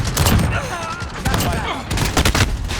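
Bursts of rapid video game gunfire crackle close and loud in a dense fusillade, broken by brief gaps, with a voice speaking over the shooting.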